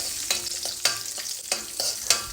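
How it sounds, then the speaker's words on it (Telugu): Cashews and raisins frying in hot ghee, with a spoon stirring the pan: a steady close sizzle broken by several sharp scraping stirs at a regular pace, no voices. "నెయ్యి వేడవగానే అందులో ఒక టేబుల్ స్పూన్ క్యాష్యూస్ వేసుకొని వేయించుకోవాలి"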